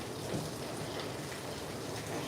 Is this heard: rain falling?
yes